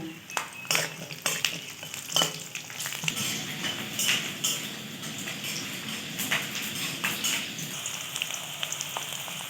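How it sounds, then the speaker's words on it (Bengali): Chopped onion, ginger and garlic fry in a pan with a continuous sizzle, while scattered sharp clicks and scrapes from stirring against the pan break through throughout. "কয়েক টুকরা আদা আর রসুন। এগুলোকে আমি ভালো করে একটু নেড়ে নেব।"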